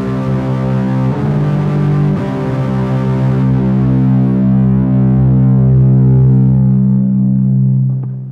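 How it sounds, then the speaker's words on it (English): A heavily distorted electric guitar through a mega distortion pedal with heavy compression rings out in thick sustained chords, loud and saturated, then the held tone slowly decays toward the end. "The mega distortion is, as it says, a mega distortion."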